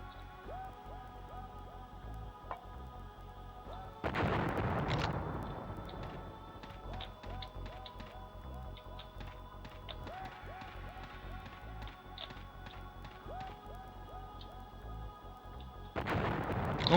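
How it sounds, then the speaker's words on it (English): Pipe bomb blasts in Duke Nukem: Land of the Babes on PS1, with a loud explosive burst at about four seconds and another near the end, set over steady game music and ambience. "try a pipe bomb."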